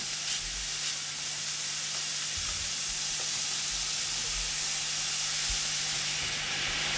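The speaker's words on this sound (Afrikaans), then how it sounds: "Terwyl die vleis braai" Minced lamb frying in a pan on the stove, giving a steady, close hiss and sizzle that runs unbroken throughout, with a low hum beneath and no voices.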